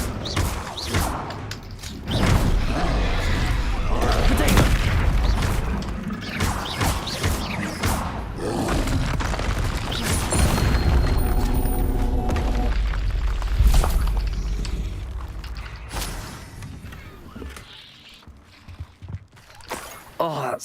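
Explosive booms and crashes from spellcasting in the Hogwarts Legacy video game, a run of loud blasts with thuds and clatter over continuous game sound for about twenty seconds before fading near the end.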